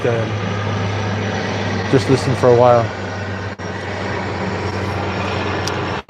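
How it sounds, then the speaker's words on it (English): An airplane passes overhead, heard from a sailboat as a steady, loud engine drone that holds throughout, with someone talking over it partway through. "the airplane's overhead"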